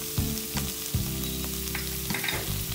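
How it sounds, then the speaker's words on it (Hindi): Chopped onion and ginger garlic paste fry in a pan with a steady, close sizzle, punctuated by a few scraping stirs of a spoon. "जिंजर गार्लिक पेस्ट का रॉ स्मेल जाने तक हम इसको फ्राई कर लेंगे"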